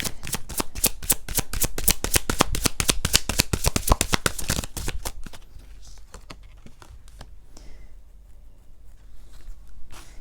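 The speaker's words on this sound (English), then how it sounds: "So let's pull a few cards from the Divine Animals Oracle." A deck of Divine Animals Oracle cards is shuffled close up, a rapid run of crisp riffling flicks for about five seconds, followed by quieter handling and faint rustling.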